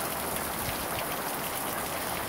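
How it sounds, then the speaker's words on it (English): Torrential downpour of rain, a steady dense hiss of heavy rainfall beating on surfaces, loud and continuous with no voices. "It's like pouring. Torrential downpour."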